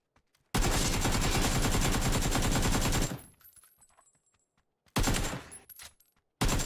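AK rifle gunfire in the video game PUBG: a loud sustained automatic burst of about two and a half seconds, then quiet, followed by a second short burst and the start of a third.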